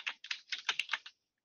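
Quick typing on a computer keyboard, a close, crisp run of about eight keystroke clusters in just over a second, then stopping, with no voices.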